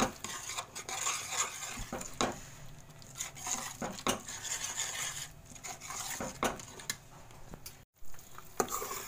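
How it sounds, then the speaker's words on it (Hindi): A spoon stirs cream into butter chicken gravy in a pan, giving irregular scraping and clinking strokes against the metal, close and moderately quiet, with brief pauses between them and no talking. "इसमें मैं थोड़ी सी क्रीम मिलाने जा रही हूँ, 2-3 चम्मच, और अब मैं इसको अच्छे से फिर मिक्स कर लूँगी"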